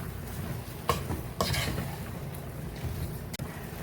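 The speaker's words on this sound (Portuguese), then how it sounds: "Dou uma mexida." Shredded chicken is stirred in a hot pan with a soft, steady sizzle and a few sharp scrapes and clinks of a utensil against the pan, close by.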